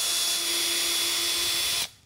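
A power drill whirs steadily at high speed, boring a handle hole in a cabinet drawer front, for just under two seconds, then stops abruptly, leaving near silence.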